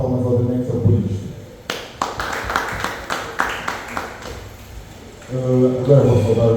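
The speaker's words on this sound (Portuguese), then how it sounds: "uma força de palmas ao The Nexel por isto." Audience clapping at a Portuguese university rap event, a burst of crowd applause between stretches of speech, individual claps audible as sharp repeated hits, talk before and after.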